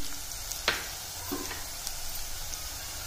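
Onion and peanuts frying in a pan while moong dal khichdi is cooked, a soft steady sizzle with a few sharp stirring scrapes and clinks, close and fairly quiet, no talking.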